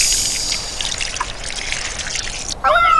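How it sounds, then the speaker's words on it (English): Water spurts from a garden hose being used to put out a barbecue fire, a steady close trickling hiss running throughout, with a brief change near the end. "The water comes spurting out the hose."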